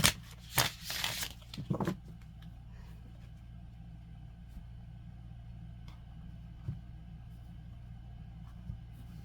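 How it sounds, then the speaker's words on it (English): A deck of tarot cards shuffled close by in a short burst of papery riffling lasting under two seconds, followed by near-quiet with a low background hum and a few faint taps. "You saw me shuffle, right?"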